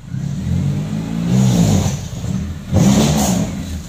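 A 1995 Daihatsu Feroza's engine revs loudly up close, rising twice in strong surges with a steady rumble between them.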